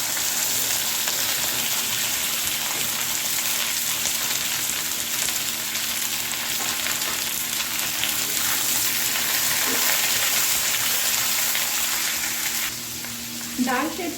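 Chopped tomato and assorted vegetables hit a pan of browned onion for a sambar made without ginger or garlic, giving a steady, dense sizzle throughout with a few soft clinks of a utensil near the end.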